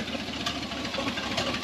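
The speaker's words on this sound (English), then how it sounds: "There's some backfiring happening out of one side." A 1978 Chevy K10 4x4 square-body engine runs steadily at a rough idle, with an uneven knocking pulse and a few sharper pops suggesting backfire out of one side, close and continuous with no talk.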